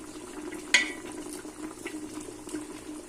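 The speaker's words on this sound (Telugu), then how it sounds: "చక్కగా మటన్ ఉడుకుతుంది చూడండి" Mutton simmering in a pot for Hyderabadi biryani: a steady low bubbling hiss with one brief sharp clink near the start, close by and with no talk.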